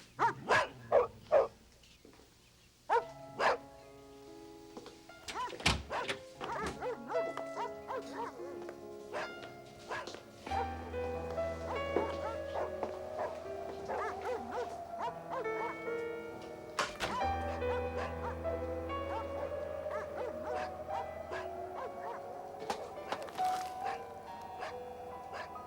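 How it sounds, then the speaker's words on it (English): Several dogs in a closed room of a small-town house bark on and off in the background while other sounds continue over a long stretch. "Oh, don't worry about those dogs. Every time anyone goes in that room, they bark like that."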